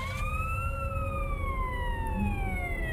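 A police car siren in the Garry's Mod video game wails in a slow, long rise and fall, steady and moderately loud over low engine rumble, with no talk during it.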